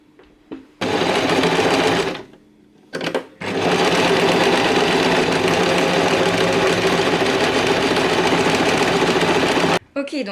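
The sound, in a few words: sewing machine stitching a trouser seam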